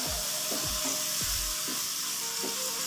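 Capsicum fries in a masala for chicken macaroni with a steady, bright hiss, and low thumps and scrapes of stirring recur through it, close and continuous.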